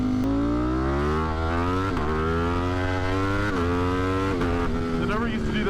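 A motorcycle of over 200 horsepower with a smaller front sprocket accelerates hard in third gear into a power wheelie, its engine note climbing steadily and loudly with brief dips, close and continuous throughout.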